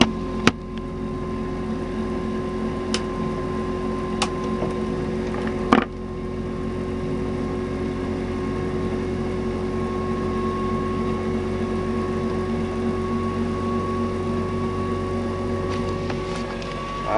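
Pulse motor generator spinning with its coil removed, giving a steady mechanical whir with faint tonal hum, punctuated by a few sharp clicks, running alone at an even level.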